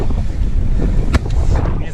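Strong wind gusting across a muddy rural path near Zduńska Wola, loud buffeting rumble hitting the microphone continuously for the whole moment, with a few brief rustles.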